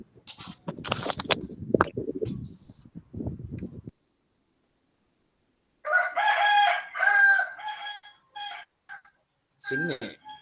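A rooster crows loudly several times in a row, with harmonic calls filling the second half, after a stretch of a person talking nearby during an online class.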